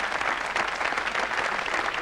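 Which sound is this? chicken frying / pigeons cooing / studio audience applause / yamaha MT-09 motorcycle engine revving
studio audience applause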